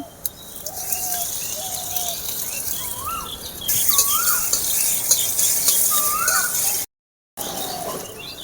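Whole cumin seeds and grated ginger fry in white oil in a kadai for a potato-rings snack, giving a steady close sizzle with stirring, while birds chirp repeatedly in the background.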